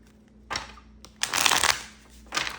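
Tarot cards being shuffled in a few quick riffling bursts, a short one then a longer, louder flurry and a final burst, close by with no talking.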